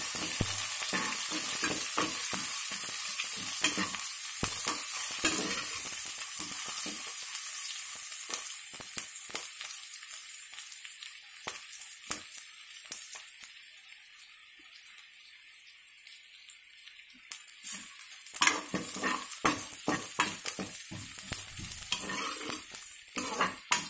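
Cauliflower curry with chopped tomatoes stirred in a hot pan: continuous loud sizzling with repeated spatula scrapes and clinks, a busy stretch early on, calmer in the middle, then more stirring.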